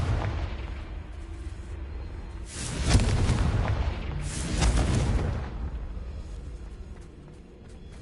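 The Confringo fire spell in Hogwarts Legacy sets off two deep booming explosions a couple of seconds apart, each with a rumbling tail that fades over the low background.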